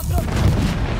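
A bomb explodes in Battlefield 1 at Cape Helles, a continuous heavy low rumble of battlefield blasts and booms filling the full second, with faint voices beneath.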